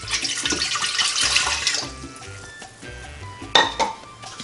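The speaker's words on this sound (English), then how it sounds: "In my bread machine goes 1 cup of warm water." One cup of warm water pours into a bread machine pan for pizza dough, a steady splashing trickle with light clinks of the container and a sharp knock near the end, heard up close in a kitchen.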